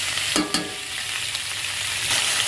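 Capsicum and onion stir-fried in a hot pan for chili chicken hiss with a steady, close sizzle, broken early by a couple of quick scraping stirs.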